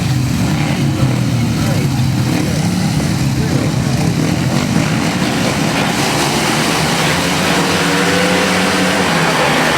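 Grasstrack racing motorcycles roar away together at the start of a race, a dense, loud, continuous engine din that holds steady throughout.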